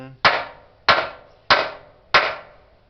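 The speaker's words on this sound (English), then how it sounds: "hammer it flat" A hammer strikes a bent tin valve cover laid on an engine block from a 1960s or 70s engine, four sharp metallic blows at a steady, roughly even pace, each ringing briefly before the next, close and loud.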